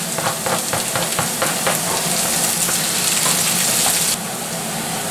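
Chopped onion and a couple of minced garlic cloves hit a hot pan and fry with a loud, dense sizzle, broken by several sharp scraping stirs early on before the crackle settles into a steady hiss.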